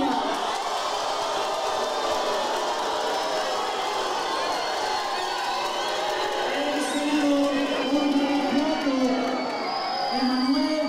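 Arena crowd noise at an event in Guatemala as officials including Sheffield are introduced, a steady roar of cheering and jeering with rising whoops and shouts toward the end, a voice talking over it.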